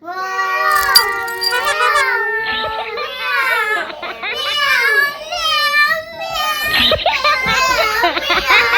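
A young child imitates a cat's meow with a string of high, wavering mewing cries, loud and close, mixed with other children's voices and playful whimpering.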